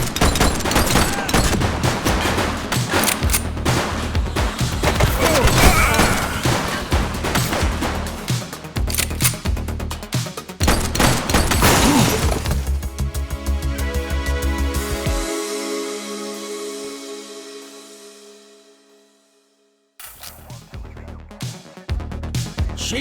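Gunfire in The Precinct video game: long, dense volleys of rapid shots rattle loudly and continuously, then fade into near silence before the shooting starts up again.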